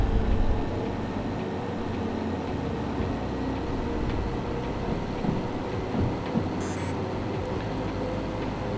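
A train engine in Derail Valley runs steadily as a constant low rumble and drone, with mechanical hum, faint clanks and a brief high tone near the end.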